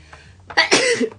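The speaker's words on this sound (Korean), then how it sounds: "재채기가 나왔어요" A single close, sharp sneeze from a woman bursts out after a brief quiet intake, loud and short against a near-silent room.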